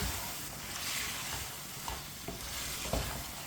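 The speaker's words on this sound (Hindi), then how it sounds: "मटर को भूनना नहीं है, चिकन में डाल के मिक्स करना है" Peas are stirred into cooking chicken in a pot, a soft steady sizzle with occasional light scrapes and knocks of the spoon, fairly quiet and without talk.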